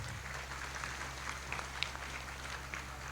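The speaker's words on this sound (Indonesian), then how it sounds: "Tepuk tangan yang meriah buat beliau." An audience at a religious gathering with a preacher claps faintly from a distance, a thin scattered patter with a few sharper claps standing out over a steady low hum.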